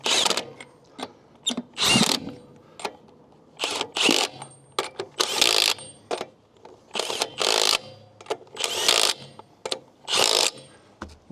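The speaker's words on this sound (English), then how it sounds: "then we'll crank them down with the gun" Milwaukee M12 stubby impact gun tightening the lug nuts on a Sprinter van wheel with BFG KO3 tires: repeated loud, close hammering bursts of about a second each, separated by short pauses.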